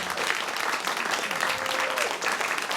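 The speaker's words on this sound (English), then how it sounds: "please give this band one more round of applause" A studio audience gives a rock band a round of applause after a live radio studio session: continuous, close clapping with a brief faint voice-like tone partway through.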